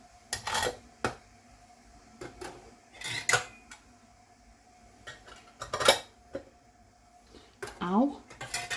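Glass jars clink and clatter against a metal pot of boiling water as they are lifted with tongs, sharp intermittent knocks close by and under quiet talk.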